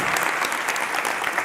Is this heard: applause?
yes